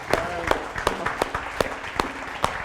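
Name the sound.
audience applause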